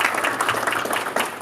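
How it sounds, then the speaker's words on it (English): A crowd applauds steadily at a higher education forum, a dense wash of many hands clapping at once, moderately loud and continuous throughout. "Let's give our panelists a round of applause."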